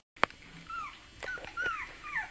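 A very small newborn puppy whimpers in a string of thin, rising and falling high cries, close by and fairly soft, with a faint sharp knock near the start.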